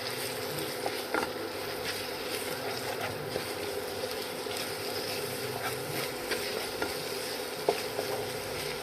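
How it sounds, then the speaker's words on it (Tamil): Two beaten eggs are stirred in a hot pan, with a soft steady sizzle and occasional light scraping taps of the spatula throughout. "ஒன்று முட்டையை உடைச்சி ஊற்றி இப்போ நல்லா கிண்டி எடுக்கணும்."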